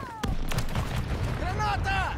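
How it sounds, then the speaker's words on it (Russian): In Call of Duty MW3 on the Urzikstan map, a sudden heavy boom from a grenade is followed by sustained loud rumble and gunfire, with game voices and chirpy tones sounding over the blast. "Бросаю гранату!"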